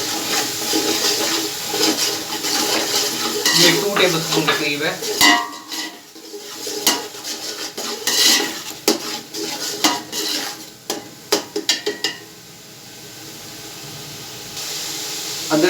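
A paste of ginger, garlic and green chilies fries in a cooking pot for pulao, with sizzling under the clatter of a stirring spoon and metal scraping against the pan. Someone speaks briefly over it.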